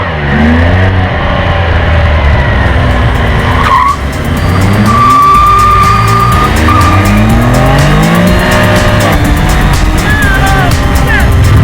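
A 2015 Can-Am Spyder F3 three-wheeler revving hard through rising and falling gear sweeps while its tire squeals and slides sideways. The sound is loud and close and continuous, and a voice briefly speaks over it.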